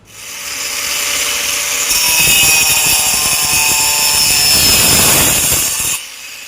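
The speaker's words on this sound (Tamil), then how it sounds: "சிரட்டையோட நடுப்பகுதியை மட்டும் கட் பண்ணி எடுத்துடணும்." A power tool cuts through a coconut shell for a craft, giving a loud, steady grinding-saw whine with rough scraping texture that holds for several seconds before stopping, with no talk.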